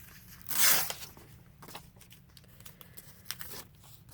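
Paper being cut down for a calendar collage gives a single loud crinkling snip near the start, then soft scattered rustles and a few light clicks, close and quiet with no voices.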